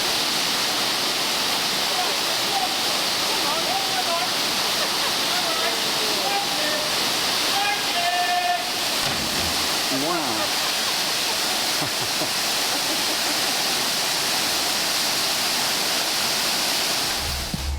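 A waterfall at a Caribbean island viewing point, heard as a steady, loud wash of falling water running the whole time, with a few faint voices and bird calls over it.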